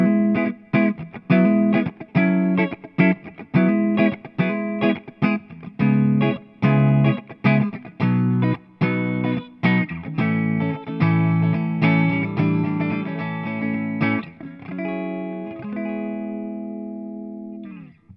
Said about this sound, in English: let's hear what it sounds like on a clean channel with the Gibson Les Paul with P90s